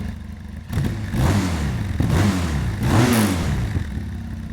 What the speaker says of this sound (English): Oh, and nice and throaty exhaust.